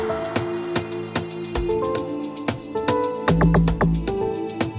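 Soft piano chords from Nexus Soft and Tiny piano presets in an amapiano beat, sustained chord stabs changing every second or so over steady percussive hits and a deep bass swell near the end, loud and close.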